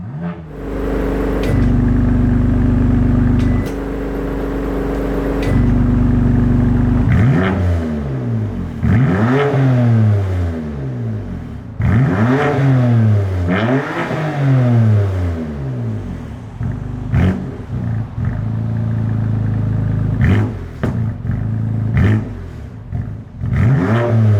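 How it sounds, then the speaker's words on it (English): A BMW M2 CS with an Akrapovic exhaust idles with a deep burble, then revs hard several times in quick rising and falling bursts, loud and close, with no talking. "now let's give it some revs and see what it sounds like"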